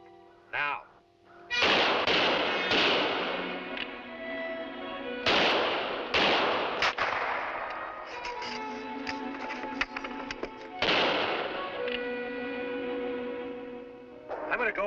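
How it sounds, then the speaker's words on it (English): Rifle gunfire in a 1957 frontier TV drama, several loud, sharp shots with echoing tails spaced across the scene, mixed with shouted voices between the blasts. "Keep firing. Here, my rifle's loaded."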